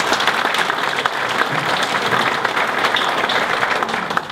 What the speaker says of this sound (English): So give yourselves a round of applause for that, please.